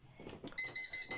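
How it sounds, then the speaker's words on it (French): A faint high electronic alarm beeps several times in quick pulses, quiet and somewhat distant. "c'était une alarme"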